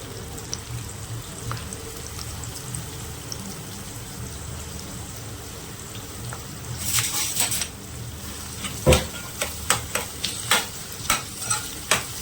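Onion sautés in a pan, a soft continuous sizzle under scraping stirs, then a run of sharper rhythmic clatters from the spoon against the pan toward the end.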